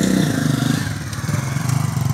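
A motorcycle engine in a Pakistani village putters loudly and close by, its pitch dipping before settling into a rough, pulsing idle.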